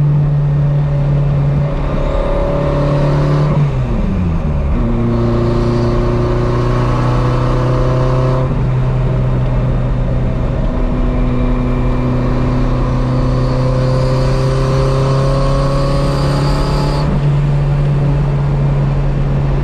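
A Renault Maxi 5 Turbo rally car engine revs hard and close, its pitch climbing through several gear changes with short drops between pulls, a continuous loud turbo roar with no talking.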